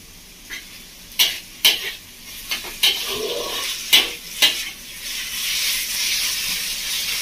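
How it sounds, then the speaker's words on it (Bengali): Chicken fries in a pan with green chilli paste for a village-style ghugni, a soft background sizzle broken by a series of sharp scraping and clattering stirring strokes against the pan. "আর এখন কাঁচা লঙ্কা বাটার সাথে সাথে দিয়ে দেবো চিকেনটা। এটা দিয়ে নাড়াচাড়া করবো।"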